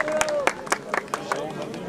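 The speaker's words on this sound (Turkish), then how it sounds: "Bu hediye bir alkış hediye mi yakışıklı kardeşimize?" A crowd at a village event gives a short burst of applause for a winner, with scattered claps under a busy murmur of voices.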